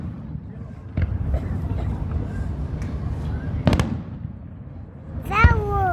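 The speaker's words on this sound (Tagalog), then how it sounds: "Fireworks." Fireworks display at an outdoor fair, with sharp bursts near one second and near four seconds and a crackling, whistling burst toward the end, heard over a steady rumble of crowd and wind noise.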